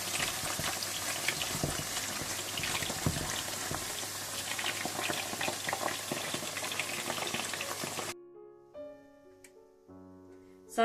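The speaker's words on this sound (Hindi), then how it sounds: "इसी तरह से आप सारा चिकन डीप फ्राई कर लें" Chicken deep frying in hot oil gives a dense, steady crackling sizzle for about eight seconds before it cuts off and gives way to a few soft musical tones.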